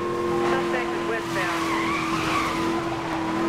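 A car in Need for Speed: Most Wanted drifts with a sustained, wavering tire squeal over a droning engine note, loud and continuous.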